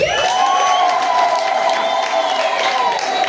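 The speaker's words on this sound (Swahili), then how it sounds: "Kule nyuma kabisa ongeza makofi." A church congregation applauding a pastor, dense close clapping mixed with cheering voices and a sustained sung or shouted tone above the crowd noise, loud throughout the short stretch.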